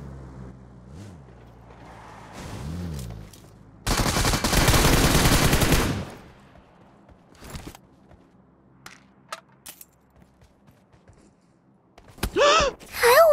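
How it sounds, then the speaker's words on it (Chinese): Gunfire in a battle royale shooter, a dense burst of rapid automatic shots lasting about two seconds, preceded and followed by scattered single shots, footsteps and vehicle movement. "正好听到有人在前面开枪"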